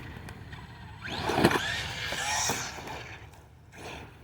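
An Arrma Big Rock RC car is driven into a tree, its electric motor whining up sharply with a quick knock mid-run before the whine fades, heard up close against quiet outdoor background.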